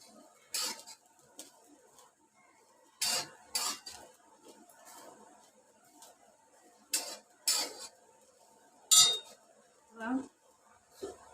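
Dry coconut roasting and being stirred in a pan for a Malvani-style onion-coconut masala, heard as intermittent scraping and clinking bursts of a spoon against the pan with quiet gaps between.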